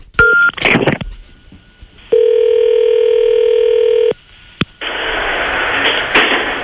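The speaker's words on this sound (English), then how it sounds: "So Dick Longbottom is ringing." An outgoing call placed during a radio phone-in show: a quick run of keypad dialing tones, then one long, steady ringback tone lasting about two seconds, followed by a brief click and a burst of hissy line noise.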